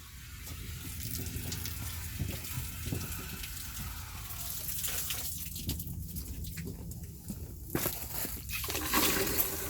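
Water rushes from a high-pressure tap to refill empty pipe lines, a steady hissing gush with sputtering surges that grow louder toward the end, close by and without speech.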